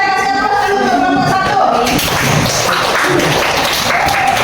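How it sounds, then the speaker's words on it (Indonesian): Classroom applause for a student group about to present at a high school science lesson, a broad wash of clapping that swells after the first two seconds and continues steadily, with a teacher's voice speaking over the start. "Kita kasih aplaus dulu untuk kelompok"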